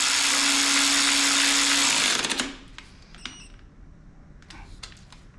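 A cordless ratchet whirs loudly with a steady motor buzz while tightening a 1/2 inch fastener, then cuts off abruptly and leaves a few sharp clicks and light taps.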